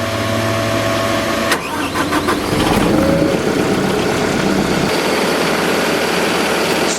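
A Titan Leaf Pro Plus unit's engine cranks and catches after a brief start, then settles into a loud, steady mid-pitched idle close by with no one speaking.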